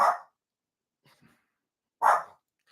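A dog barks twice, loud and close, about two seconds apart, with faint snuffling or breathing in the gap between the barks.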